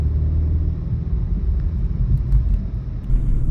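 A 2020 BMW 430i xDrive with the B48 engine, driving at steady speed, giving a constant low engine and road rumble from inside the cabin.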